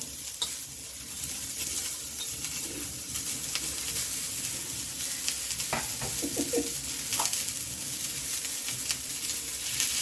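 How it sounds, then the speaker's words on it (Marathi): Onion fries in oil on a Konkan-style griddle until reddish, a steady crackling sizzle with scattered pops and a few scraping stirs, close and moderately loud. "जरा तेल टाकून कांदा लालसर असा भाजून घ्यायचा."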